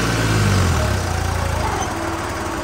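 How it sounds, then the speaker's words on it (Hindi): A New Holland 3630 diesel tractor engine runs close by with a loud, steady, throbbing rumble and a heavier surge at the start before settling into an even, pulsing idle. "तीजे हाई सही चलता ट्रैक्टर देखो"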